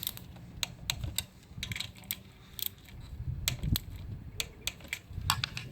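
A torque wrench tightens the valve cover bolts on a 2013-2016 Dodge Dart, giving a run of sharp, irregular ratcheting clicks close up, alone, with short pauses between bursts.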